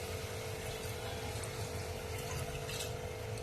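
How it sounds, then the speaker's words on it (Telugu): A glass of water streams into simmering tamarind curry with a dense, steady rushing and gurgling pour, close and even throughout, with no talk. "ఒక గ్లాస్ వాటర్ కూడా యాడ్ చేసుకుందాం"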